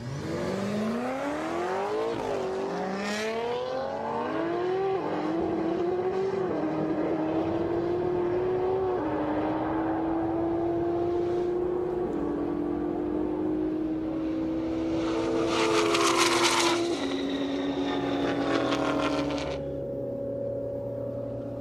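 An 1100 HP twin-turbo Ford GT on a top speed run, heard from inside: the engine climbs through rising gear-by-gear pulls, then holds a steady high drone that swells and eases near the end.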